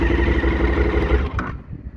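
A 2020 KTM 1290 S motorcycle engine starts, chugging and rumbling at close range, with a rattling rhythm that cuts out partway through.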